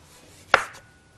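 A single sharp knife stroke slices through a red tomato on a board while pizza is being made, close and brief with quiet around it.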